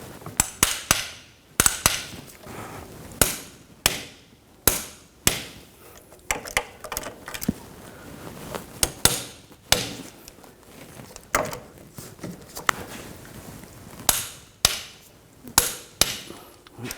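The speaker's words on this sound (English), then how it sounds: "Just tap the axle back in place a little bit. Just going to use a rubber mallet." Rubber mallet tapping a rear axle back into the wheel hub of a 2000-2006 BMW X5, with many sharp, dull knocks at irregular intervals, some clustered in quick pairs, close by and alone.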